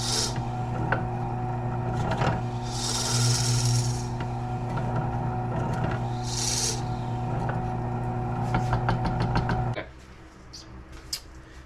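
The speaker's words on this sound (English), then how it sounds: "let's go drill this hole out" Power drill boring a hole through a knife blade made from washing machine and saw steel, a steady close motor drone with high whining bursts of bit on metal, running continuously before cutting off abruptly near the end.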